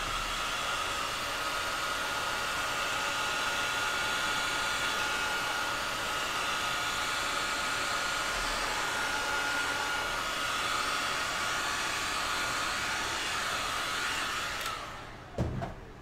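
A heat gun blows hot air onto paint with a loud, steady, close rushing hiss that runs unbroken for about fifteen seconds, then cuts off with a few clunks.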